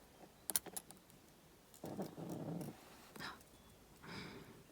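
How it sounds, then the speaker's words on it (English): A dog snores softly nearby in a few slow, rumbling breaths, after some brief clicks and rustles. "That's my dog snoring again."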